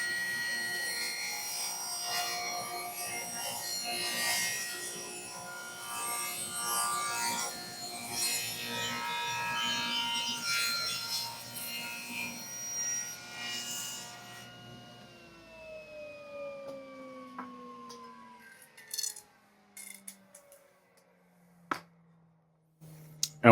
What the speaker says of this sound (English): take this cut nice and slow